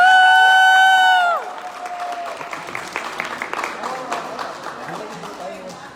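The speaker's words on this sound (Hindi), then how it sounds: "तो जोरदार तालियां एक बार" After a short sustained tone, an audience at a gathering breaks into applause mixed with cheers and shouts, a moderately loud crowd sound that gradually thins out.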